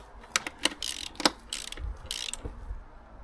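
A torque wrench clicks while suspension bolts are tightened on a vehicle during a suspension refresh: a handful of sharp, close metallic clicks, some in quick pairs, mixed with softer ratcheting and rattling.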